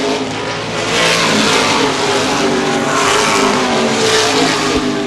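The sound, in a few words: late model sportsman race cars racing on speedway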